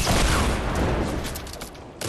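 Rapid gunfire in a Fortnite match, a dense continuous fusillade of shots with booming low end that thins slightly toward the end before a last burst.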